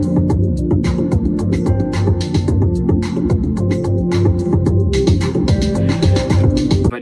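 Full beat of a song, built from a chopped sample with layered drums: steady kick and snare hits with busy hi-hats over a sustained harmonic backing, dense and continuous throughout.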